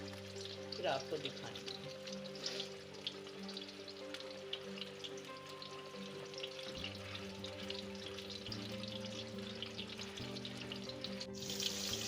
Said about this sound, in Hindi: ये अब हम अपने चपली कबाब तलने के लगे हैं।